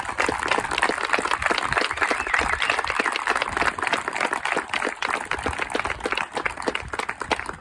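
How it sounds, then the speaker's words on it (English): A crowd at a veterans celebration gives a round of applause, a dense, sustained wash of many hands clapping that holds steady for several seconds. "If we could just give a round of applause."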